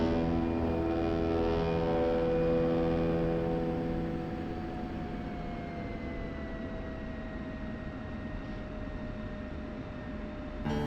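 Jet aircraft taxiing in a military flight simulation game on a Syria server, a steady loud engine drone with tonal whines that slowly glide downward, continuous and alone with no talk.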